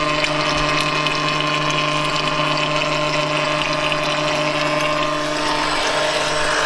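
A pump extracts oil from a Range Rover L322, running as a steady, loud mechanical drone with a constant hum and sputtering, liquid-laden texture throughout, with no talking.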